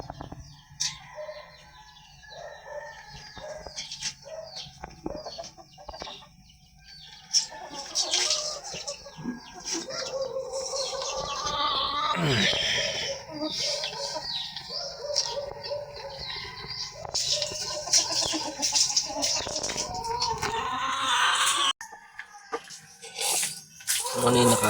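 Rhode Island Red hens clucking and calling from close by in a laying coop, with sporadic bird chirps and clucks through the whole stretch while a person talks over them.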